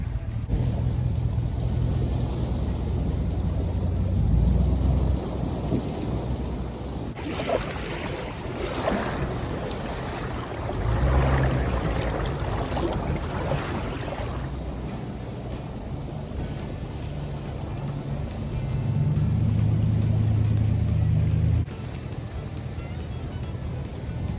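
Creek running high after a night of heavy rain at a secluded homestead, a continuous rushing wash of water mixed with blustery wind buffeting the microphone, steady throughout with no talking.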